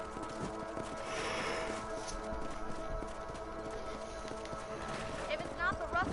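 Horses' hooves clip-clop steadily while riding across open country in a Wild West video game, a continuous trotting rhythm mixed with game music and ambient sound.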